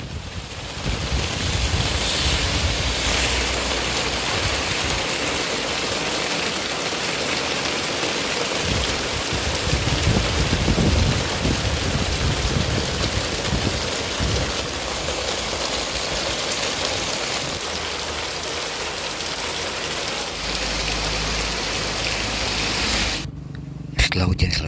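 Heavy tropical rain pours during a motorcycle ride near Sajra in Banten, Indonesia, a dense, continuous roaring hiss that stays loud for the whole stretch before cutting off briefly near the end.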